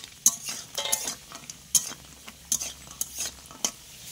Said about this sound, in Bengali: তো এই যে সেই বড়িটা ভেজে নেব এই তেলে।